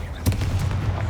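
Bombarda explosion spell cast in Hogwarts Legacy, a short booming blast with a sharp onset and rumbling low tail, heard over continuous game sound.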